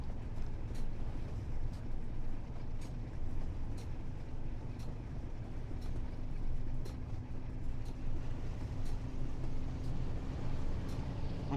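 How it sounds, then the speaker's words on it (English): Passenger train rolling into a platform on the Burn Naze ICI to Preston route in Train Sim World 4, a steady low rumble with a faint hum throughout, no talk. "there rolling in with a passenger train"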